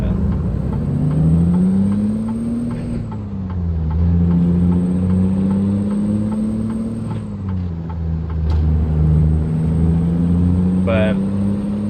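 Semi truck engine in American Truck Simulator, a steady low diesel drone that rises and falls with throttle changes across the span, with a person talking over it.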